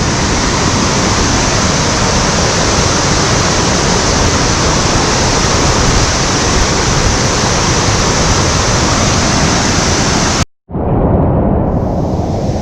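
Franconia Brook rushes loudly and continuously at a stream crossing in the White Mountains, a dense close roar of water that cuts out abruptly near the end before a softer wash returns.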